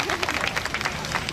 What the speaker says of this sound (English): A big round of applause for him, everyone.